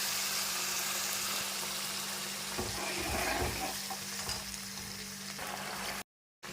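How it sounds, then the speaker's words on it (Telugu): Tamarind juice hits hot oil tempered with turmeric and curry leaves for pulihora, giving a loud steady sizzle with a burst of bubbling and stirring midway, then stopping abruptly near the end. "ఇది వేసుకోగానే చింతపండు రసం వేసుకోండి"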